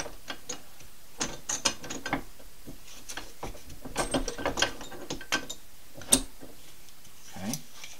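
Bench vise being wound tight by hand, clamping a scissor loop between two pieces of wood, giving a series of uneven ratcheting clicks and metallic ticks, close up and with no talking.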